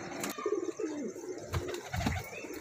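Female teddy pigeon giving a few soft low coos close by, with quiet rustles and a couple of faint thumps between them.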